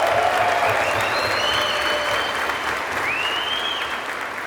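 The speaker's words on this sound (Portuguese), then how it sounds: "Com uma calorosa salva de palmas" Warm applause from a workshop audience welcoming a product coordinator to the stage, a steady, dense wash of many hands clapping that holds at an even level throughout, with a faint squeak or whistle riding above it.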